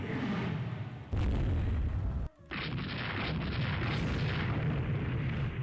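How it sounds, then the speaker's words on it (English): Heavy booming naval fire rolls through a Rule the Waves 3 battle as torpedo spreads are launched, loud sustained blasts with a sharp cutoff and another rumbling barrage after a brief gap. "Ooh, those are some spreads of torpedoes right there."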